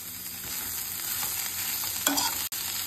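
Cooked rice is stirred and tossed in a hot frying pan for diet fried rice, giving a steady close sizzle with scraping of the spatula and a sharp clank near the end.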